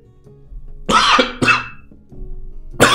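Several loud, close coughs in quick succession, two bursts close together early on and another at the end, with quiet room tone between them and no speech.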